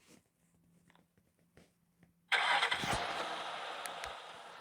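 A car engine starts in the Roblox video game: after near silence broken by small clicks, the engine abruptly cranks, then fires into a loud, steady idle that continues to the end.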